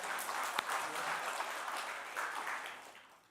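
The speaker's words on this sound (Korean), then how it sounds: "우리 하나님께 영광의 박수 올려드립시다." A church congregation applauds during a Sunday worship service at Gyeongju Citizens Church, producing a steady wash of clapping that fades toward the end, with a faint voice in the background.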